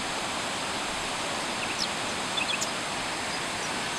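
Cumberland Falls, a river waterfall, gives off a steady, broad rushing roar throughout, even and continuous, with a few faint bird chirps above it.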